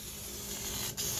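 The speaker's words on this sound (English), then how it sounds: "Gonna spray your foam." A continuous hiss of aerosol adhesive spray onto ATV seat foam, close and steady, with a brief break near the end before it resumes.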